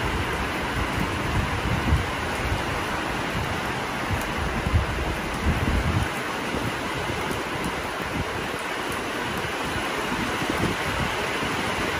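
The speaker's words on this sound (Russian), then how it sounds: "У нас такой ливень, как из ведра." A heavy downpour pours down outside in a steady, dense roar of rain that stays constant throughout, with no one talking.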